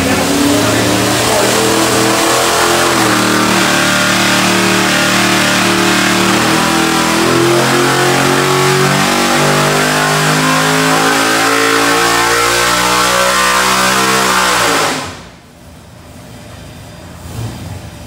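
Big-block 427 engine, old-school pro stock style, revving hard on a dyno under load, a loud, rising roar climbing for about fifteen seconds before cutting off sharply into a quieter idle.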